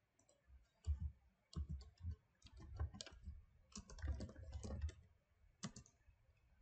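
Typing on a computer keyboard while entering a MySQL database command, with bursts of close, crisp key clicks in irregular rhythm and short pauses between words.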